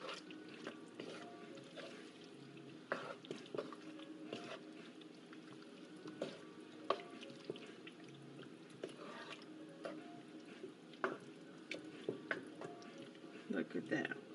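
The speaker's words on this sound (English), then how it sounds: "So let me stir this around a little bit." Chicken spaghetti sauce with corn, mushrooms and potato being stirred in a pan on the stove, giving soft scraping and bubbling sizzle with small drips, while a person talks throughout.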